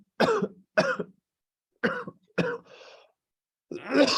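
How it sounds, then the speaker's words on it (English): Several sharp coughs in quick succession, four bursts followed by a rougher throaty tail, then another cough after a pause, close and fairly loud with no talk. "Sorry, I got a little cough."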